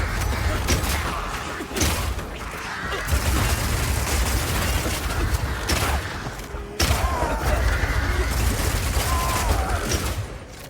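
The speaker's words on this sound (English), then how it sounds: "Being able to run while shooting with Rapid Shot is also great for when you want to perform a fighting retreat." Rapid Shot gunfire from Path of Exile 2, a dense, continuous barrage of shots and impacts lasting throughout, loud and busy with mechanical clatter, with brief dips between volleys.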